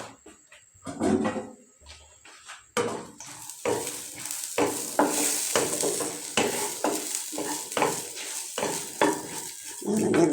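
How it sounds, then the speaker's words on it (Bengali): Raisins fry and get stirred in a pan while sweet vermicelli (samai) is being made: a steady sizzle with repeated scraping and clinking strokes of a spoon against the pan, close and fairly loud, with no talking. "এখন এটা আমি ভালো করে ভাজে নিই"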